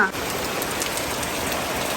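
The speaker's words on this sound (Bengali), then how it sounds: "খুব এবং জোরে জোরে বৃষ্টি হচ্ছে" Dense, steady rain pouring down, a loud continuous hiss of drops hitting surfaces with no letup.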